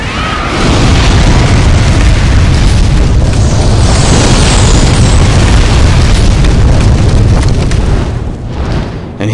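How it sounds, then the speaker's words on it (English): A dragon's fire breath sweeps across a bridge in Demon's Souls, a loud, sustained roaring blast of flame that fills nearly ten seconds with a dense, rumbling whoosh before easing slightly at the end. "he just laid the entire bridge to waste with his fire breath"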